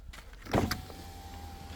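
The power window glass of a 2020 Volkswagen Polo Highline diesel runs with a thin, steady electric whine after a brief click, close by and with no talk.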